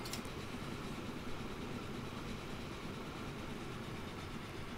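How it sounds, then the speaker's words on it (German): A train in the video game Train Fever rumbles steadily toward a station, a faint, continuous rolling noise with low mechanical hum and no voices. "Außer der Zug schafft es noch zum Bahnhof."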